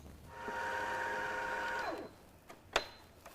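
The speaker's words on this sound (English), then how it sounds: "I'm just going to wind it onto a bobbin" A sewing machine winds thread onto a bobbin with a steady whirring hum that runs for nearly two seconds and then winds down, followed by a few faint clicks and one sharp knock.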